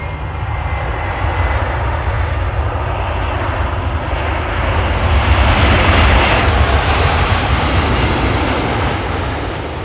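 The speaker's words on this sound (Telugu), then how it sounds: "అమెరికా వైమానిక దళానికి చెందిన భారీ వ్యూహాత్మక రవాణా విమానం C-17A గ్లోబ్ మాస్టర్ నేరుగా రష్యా రాజధాని మాస్కోలోని నుకోవో అంతర్జాతీయ విమానాశ్రయంలో ల్యాండ్ అయిన విజువల్ ఇది" A US Air Force C-17A Globemaster heavy transport jet lands at Vnukovo International Airport in Moscow, its engines roaring loud and steady throughout, swelling slightly midway, with no talking.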